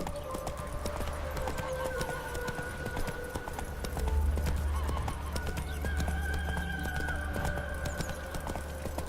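Horse galloping in The Witcher 3: Wild Hunt, rapid rhythmic hoofbeats with a snorting whinny, game music and ambience underneath, steady and fairly close throughout.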